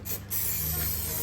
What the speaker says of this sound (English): I'm just going to spray it all over this area.